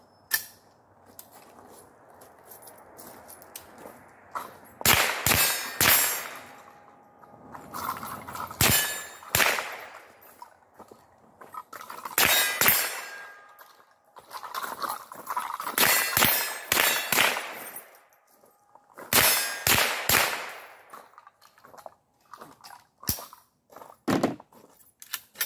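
Live rifle fire on an outdoor range, aimed through an illuminated variable scope, comes in short clusters of sharp cracks, each ringing off steel targets with a metallic clang. Brief quiet gaps separate the strings of shots, and no one speaks.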